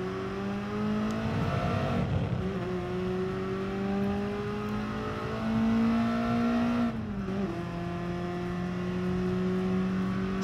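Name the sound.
BMW M3 Evo race car engine in Gran Turismo Sport video game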